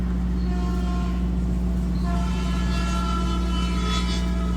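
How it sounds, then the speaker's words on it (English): A train passes close by with a steady low rumble, clattering wheels and sustained horn-like tones that swell and fade over several seconds, loud and alone without talk. "And there goes the train."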